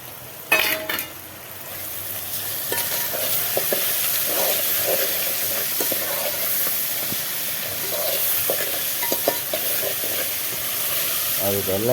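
Garlic and chillies frying in a pan, a steady hiss and sizzle with occasional stirring clinks and scrapes, close and moderately loud, with a voice talking over it.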